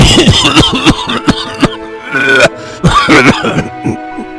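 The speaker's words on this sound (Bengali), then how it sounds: "জোরে কাশি উঠল" Loud, harsh coughing comes in repeated fits close up, mixed with throat clearing and strained, groaning breaths.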